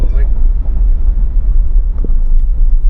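A car fitted with an aftermarket tuning box pulls forward under throttle, its deep, steady engine rumble loud and close from inside the cabin, with faint muffled voices beneath.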